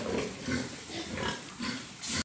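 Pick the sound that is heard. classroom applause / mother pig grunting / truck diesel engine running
mother pig grunting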